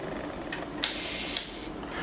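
A Rollei 35 film camera shutter fires at a 1/2 second setting: a sharp click, a hissing half-second open interval, then a closing click, all alone and close.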